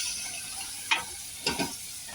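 Dal drops into a hot tempering of spices in a pan for a Maharashtrian veg thali, giving a steady hiss with two brief sizzling bursts, close by.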